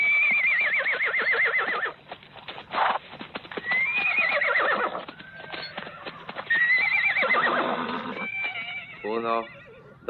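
Horses in a western film neigh loudly several times with long, quavering whinnies, alongside clip-clop hoofbeats and some shouting as they gallop away.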